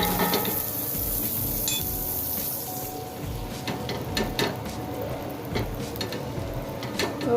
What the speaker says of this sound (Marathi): त्यामध्ये मी बटर घालून घेते.